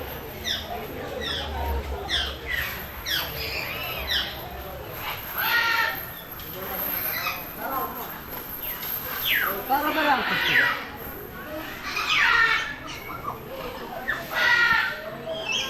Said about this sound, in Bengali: পাখির ডাক আমার ভীষণ ভালো লাগে